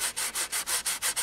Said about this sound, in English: you sand it, and it makes a relatively nice edge